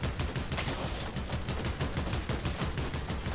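Rapid, dense gunfire from the video game Fortnite: bursts of shots in quick rhythmic succession, loud and continuous for the whole stretch with no talk over it.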